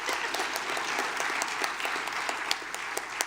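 Audience applause at a regional educators awards and scholarship ceremony, a steady wash of many hands clapping throughout, with individual claps standing out near the front.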